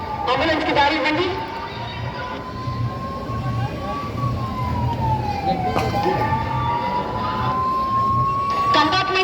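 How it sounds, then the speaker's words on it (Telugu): An ambulance siren wails in a long rising and falling tone through a festival procession crowd during the Khairatabad Ganesh immersion, while someone speaks over a loudspeaker above the crowd noise. "అంబులెన్స్ వస్తుంది,"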